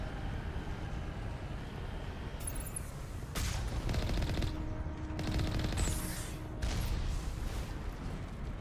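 Turret gunfire in the video game Mass Effect rattles in rapid bursts amid mechanical game noise, moderately loud with several dense stretches of firing.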